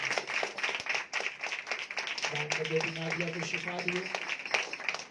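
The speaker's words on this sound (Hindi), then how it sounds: "आए खुदावंद के लिए जोरदार तालियां बजाएं" A church congregation claps steadily in dense, rapid patters that continue under a voice speaking over them.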